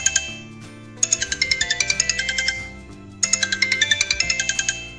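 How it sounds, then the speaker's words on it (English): An old Sony phone ringtone plays loud and clear, a bright electronic chime melody of rapid repeated notes in two phrases, with a brief pause between them. "I want to set this music, Sony old phone ringtone"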